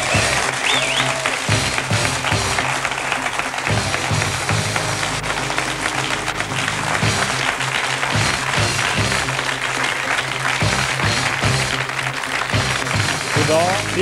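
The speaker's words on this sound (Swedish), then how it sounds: "Det var en av de hårdaste applåderna vi har haft under säsongen." A Swedish TV talk-show studio audience in 1996 applauds guest Henrik Schyffert, loud dense clapping sustained throughout, with voices faintly mixed in.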